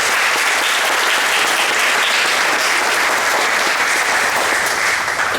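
Audience at a 2021 school moving-up ceremony giving district administration and board members a round of applause, loud, dense and sustained clapping that fills the whole stretch without a break.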